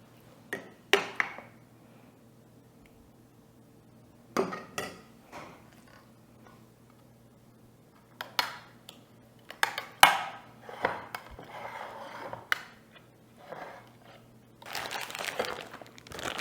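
Sauce spooned into a baking dish for enchiladas, heard as sparse soft clinks of a spoon on the dish and wet plops separated by quiet gaps, with a denser run of scraping near the end.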